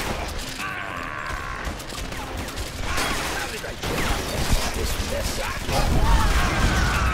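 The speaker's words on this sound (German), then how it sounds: "Die haben so viel Schuss auf einmal." Video game gunfire from Guns, Gore & Cannoli 2, with dense rapid bursts and crashing impacts that build louder toward the end, mixed with game noise and people talking.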